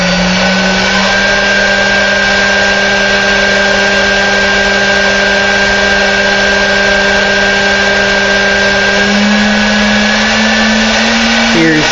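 A 5 hp, 4 kW spindle runs up to 12,000 RPM, giving a loud, steady, high whine with a constant tone throughout and a slight pitch rise near the end.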